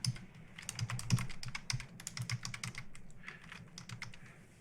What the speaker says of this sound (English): And typing is real hard.